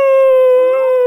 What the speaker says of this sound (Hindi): भाई सारे कुत्ते आ गए क्या?